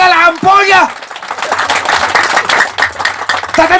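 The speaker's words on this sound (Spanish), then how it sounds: "Alábale con más fuerza las palmas, hermanos" A church congregation claps hands in praise during a live service, a dense burst of clapping heard between bursts of a man's loud speech.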